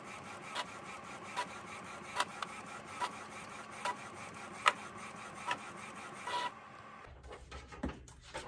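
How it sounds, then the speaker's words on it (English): A Sawgrass 500 sublimation printer running a print job on paper, with its print head sweeping back and forth in regular clicks and whirs about once a second, steady and fairly quiet, ending with a shift in mechanical sound. "Then what I do is I print out some of my designs."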